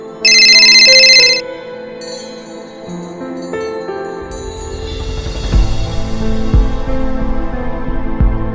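A phone ringtone sounds loudly for about a second, then cuts off abruptly as the call is rejected, and soft background music follows.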